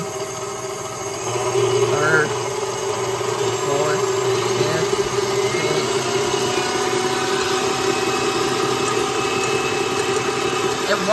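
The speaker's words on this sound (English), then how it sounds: "We will put the paddle on, shut it, lock it, and we will turn it on first speed" A KitchenAid stand mixer with its paddle fitted runs on its first, stir speed while sitting on carpet, giving a steady, loud motor hum with a faint rattle that continues evenly throughout.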